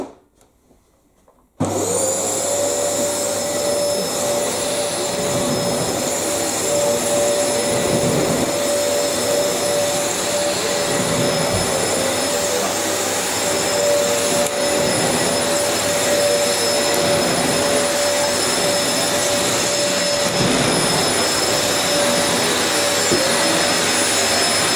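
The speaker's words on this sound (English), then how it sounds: "We just do a bit long video of me vacuuming." After a brief quiet moment, a Dyson DC04 upright vacuum cleaner switches on and runs at a loud, steady whine, continuing unbroken and close by.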